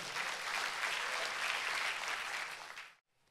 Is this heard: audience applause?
yes